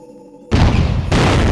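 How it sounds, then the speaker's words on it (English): Guided leg cannon firing in the video game Blood Will Tell: a sudden loud blast after a quiet lull, followed by sustained roaring rumble with a second surge partway through. "I call it the guided leg cannon."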